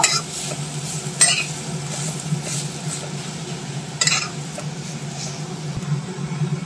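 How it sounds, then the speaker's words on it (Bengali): Grated ginger and radish fry in a pan, giving a steady close sizzle broken by a few sharp scrapes and clinks of a utensil stirring through. "আদা আর মূলোর গন্ধটা যাওয়া অবধি ভালো করে একটু ভেজে নেব।"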